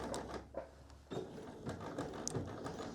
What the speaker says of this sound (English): I'm just going to sew that in place here